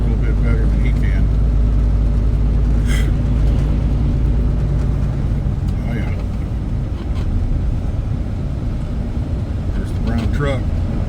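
Engine of an empty truck labouring up a hill on Oregon State Highway 22 behind a logging truck, a loud, steady low drone with road rumble throughout.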